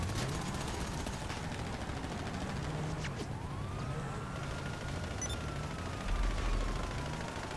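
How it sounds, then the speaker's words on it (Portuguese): Gunfire in the GTA V Online video game, scattered shots over a constant dense roar of game noise, with a siren-like tone sweeping faintly in the background. "estão atirando em mim"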